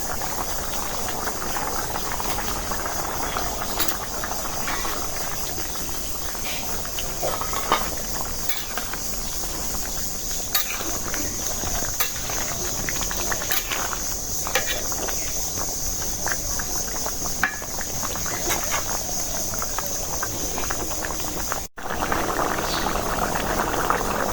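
A pot of tengra fish curry with ripe tomatoes bubbling steadily on the stove as the fish goes in, a continuous close simmer with scattered small clinks and rattles throughout.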